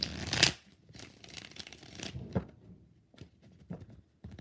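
Tarot cards are shuffled up close in a few quick riffling bursts, soft papery flicks and taps following in a quiet room.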